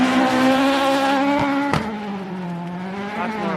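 A Subaru rally car engine works hard through a hairpin corner on a snow rally stage, its steady harmonic drone up close and loud, with a sharp crack near the middle before the pitch sags and recovers.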